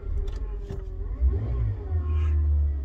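A Peugeot car's engine idling low and then pulling away, a steady deep rumble with a rising rev near the middle, heard fairly close and without talk.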